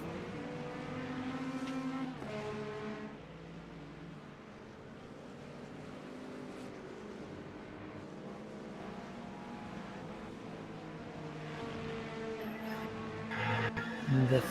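LMP2 prototype and GT3 race cars roar around Le Mans in the iRacing simulator, engine tones rising and falling through gear shifts, fairly faint and steady with occasional muffled voices.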